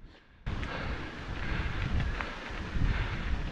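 Steady wind buffeting the microphone, a loud broadband rush that starts abruptly and keeps blowing without pause.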